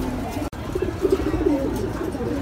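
Pigeons at a pigeon farm coo softly in short repeated low calls close by, with a sharp click near the start and someone speaking over them.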